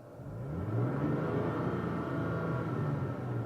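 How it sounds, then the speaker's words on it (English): Parked 2017 Toyota Tacoma's engine revved with the gas pressed about halfway: a low rumble rises smoothly to a steady, mid-range drone and holds, close and fairly loud. "So right now I'm just parked. I'm just going to rev the engine."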